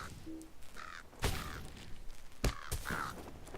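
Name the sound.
birds cawing in a video game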